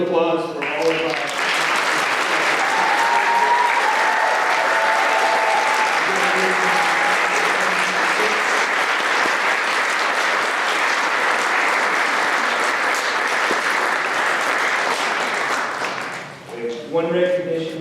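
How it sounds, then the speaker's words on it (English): An audience at a Masters and PhD commencement ceremony applauds, loud sustained clapping filling the room for most of the stretch, with a voice speaking briefly at the start and end. "A round of applause for all of our"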